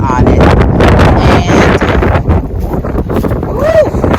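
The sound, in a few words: wind blowing on microphone outdoors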